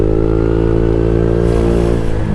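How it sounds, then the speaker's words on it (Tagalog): A motorcycle engine held at high, steady revs before an overtake, loud and close, with a continuous roar that shifts slightly in pitch near the end. "ganito maglaro ng rev bago pumasok sa overtake"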